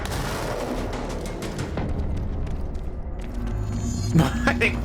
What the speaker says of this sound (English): So many exploding guys.